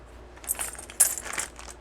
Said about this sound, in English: And just get some coins, which I'll just dump them in here.